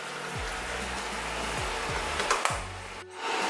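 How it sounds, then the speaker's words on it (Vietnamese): A countertop air fryer cooking chicken runs with a steady, close whirring fan rush, broken by a few faint clicks and a brief dip near the end. "mình sẽ tắt nồi chiên luôn"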